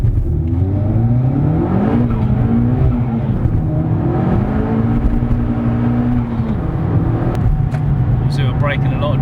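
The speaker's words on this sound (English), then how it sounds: "We're going to do a little 0 to 60 launch here." A tuned Suzuki Swift Sport with about 269 bhp and skinny tyres launches from 0 to 60, engine revving hard through rising gear pulls, heard from inside the car, loud and continuous with tires breaking traction.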